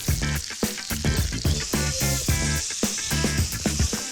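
Meat sears in a hot pan with a loud, dense sizzle and spitting pops, steady and close throughout without any talk.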